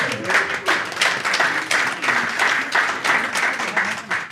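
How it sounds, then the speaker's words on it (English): Audience applause at a comedy show, steady clapping from a crowd filling the room at moderate loudness, with faint voices mixed underneath. "All right, round of applause for the door guy taking care of business."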